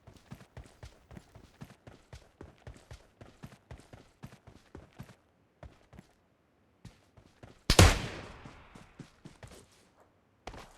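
Kar98 rifle gunshot in PUBG Mobile Lite rings out as a single loud, sharp crack with a brief decaying tail, standing out among steady soft footstep-like game clicks.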